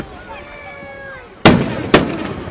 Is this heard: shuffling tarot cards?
no